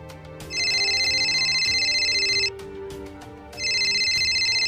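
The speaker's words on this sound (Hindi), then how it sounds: "एक मिनट, मेरा फोन आ रहा" A phone ringtone rings in two bursts, each a loud electronic warble lasting about two seconds with a short gap between them, over a quieter background tone.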